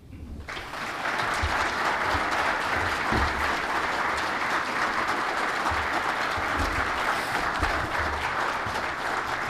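An audience claps warmly and steadily to welcome speaker Shane Mahoney at a conservation talk, and the dense applause starts abruptly and holds loud and even throughout.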